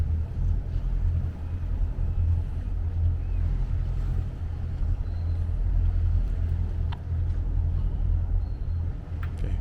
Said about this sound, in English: When we're just idling along.